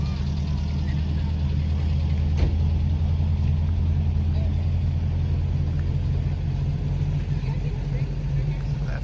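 Cars arrive at a Saturday car cruise-in at an ice cream stand parking lot, engines rumbling in a steady low idle drone with a brief sharp knock partway through; no talk is heard.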